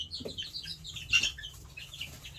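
Brown leghorn or black copper maran chickens and a rooster clucking nearby in a coop, a few short soft calls with a brief burst of flapping or scuffling midway.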